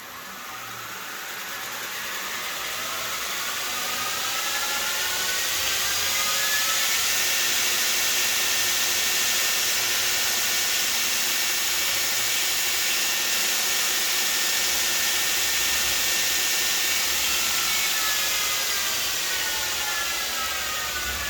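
2x48 belt grinder powered by a VFD-controlled motor spins up and runs, a loud, steady whirring drone with a rising whine as it reaches speed, holding level throughout with no talking.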